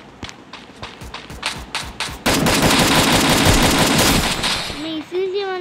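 Free Fire mobile game gunfire: a burst of single shots, then a dense continuous automatic volley for about two seconds, loud and close, with brief game sounds afterward.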